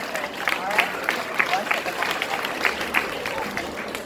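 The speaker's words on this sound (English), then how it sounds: "Give her a round of applause." Audience applause at a primary school graduation ceremony in Jamaica, a steady wash of clapping from a crowd that holds fairly even throughout, with crowd noise underneath.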